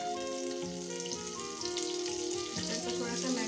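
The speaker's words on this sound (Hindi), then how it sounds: "बटर को थोड़ा सा मेल्ट कर देंगे।" Butter melts in oil in a kadhai, giving a steady close sizzle and crackle with a soft hum running beneath it, and no voice over it.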